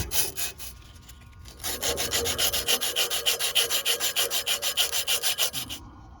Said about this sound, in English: I'm gonna take some emery cloth and try to clean these up just a little bit.